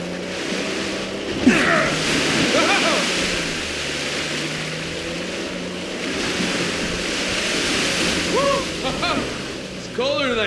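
A waterfall in the video game Uncharted: The Lost Legacy gives a steady, loud rush of falling water throughout, with voices speaking intermittently over it.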